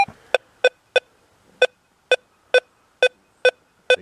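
Deus 2 metal detector responding to an elevated nail held above a quarter, giving a series of about ten short, evenly spaced beeps in five-tone mode against a quiet background.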